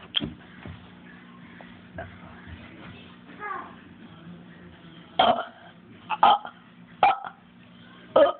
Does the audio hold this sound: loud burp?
yes